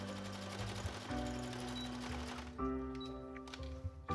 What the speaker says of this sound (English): And I'm also going to add a zigzag stitch around the waist.